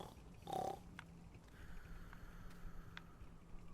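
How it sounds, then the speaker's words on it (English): A single pig oink from a Farming Simulator 19 farm map stands out briefly near the start, then gives way to a quiet ambient background with soft scattered clicks. "find out what the source of the oinking sound is"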